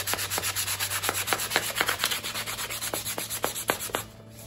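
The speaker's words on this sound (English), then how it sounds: "I'm gonna go ahead and take my sandpaper and I'm going to sand" Sandpaper rubs back and forth along the grain of wood, a close, rhythmic series of about sixteen scratchy strokes that stops near the end.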